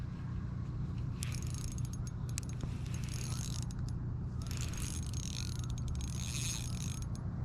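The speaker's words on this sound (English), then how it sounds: "We'll loosen our drag a little bit more." Fishing reel drag being loosened while pond fishing for bluegill, a quiet ratcheting click run under steady background noise, with two brief bursts of faster clicking.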